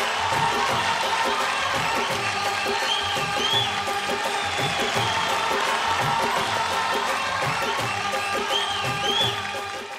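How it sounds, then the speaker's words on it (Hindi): A studio audience at a televised singing competition claps and cheers in a continuous, busy roar, with crowd voices and occasional shouts layered over steady applause throughout. "मैम के लिए एक बार जोरदार तालियां।"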